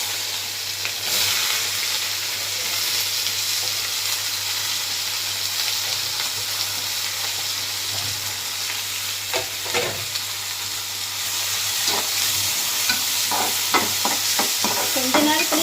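Mustard seeds spluttering in hot oil in a home kitchen pan for onion-based chana curry, a steady sizzle broken by sharp popping crackles that grow denser toward the end.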